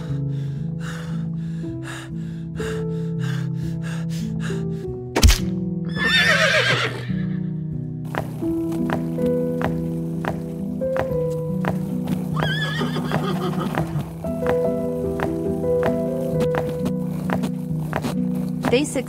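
Horses whinny and snort loudly nearby while hooves clop steadily, with a sharp gasp-like breath midway and labored animal sounds throughout.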